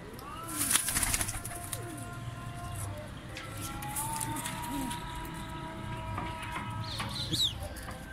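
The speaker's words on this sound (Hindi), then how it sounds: "एक और बिल्ला कबूतर निकलिया परवेज साहब का।" Pigeons of the billa and Sialkoti types coo and cluck steadily near the microphone while wings flap briefly in a burst near the start, with a faint background of other birds.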